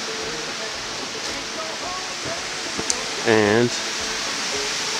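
A creek running beside a campsite, a steady broad rushing of water throughout, with a brief spoken word and a short tonal sound near the middle.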